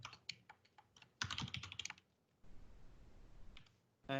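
Fingers tap out a short burst of keystrokes on a computer keyboard while entering a line into a code console, close and quiet, with irregular clicks, a pause, and then a final few taps.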